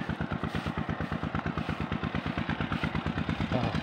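A small engine runs an irrigation water pump on a cornfield farm, chugging in a fast, even, throbbing rhythm at close range with a steady clattering beat throughout.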